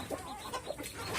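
Chickens cluck and squabble nearby while fighting over eggshells, giving short, excited bursts of fowl calls close up.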